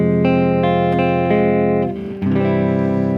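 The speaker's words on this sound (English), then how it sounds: "that's the sound of a minor 4 chord." Borrowed minor four chord sounding on a sustained, rich, distorted electronic tone, held steady before briefly dipping and then resuming.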